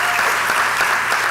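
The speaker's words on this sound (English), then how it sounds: "let's give a round of applause for Rebecca Clay Flores" Audience applause for county commissioner Rebecca Clay Flores in a room with school district students, a brief burst of steady crowd clapping, loud and continuous.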